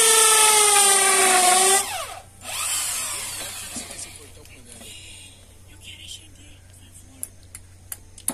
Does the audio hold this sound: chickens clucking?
no